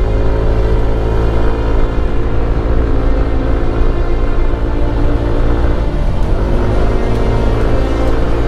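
A motorcycle engine strains up a very steep road in La Union, giving a loud, continuous droning hum that holds steady and briefly dips and recovers in pitch near the end.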